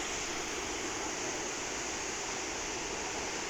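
Water flowing at Muran Dam, a dense, continuous roaring rush of falling water, loud and unchanging from start to finish with no other sounds or voices.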